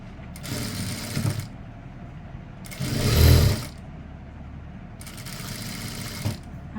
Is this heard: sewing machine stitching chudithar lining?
yes